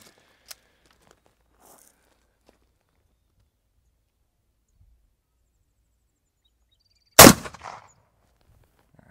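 A standard 7.62x54R round fired from a PSL rifle strikes a Mira Safety Tactical level 4 body armor plate. One loud, sharp crack with a short rattling tail breaks an otherwise quiet stretch.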